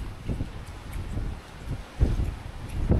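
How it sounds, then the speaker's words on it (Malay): A strong storm wind blows at sea around a kelong, an offshore fishing platform, producing a continuous low, buffeting roar with gusty surges that swell near the end. "So ribut kuat juga."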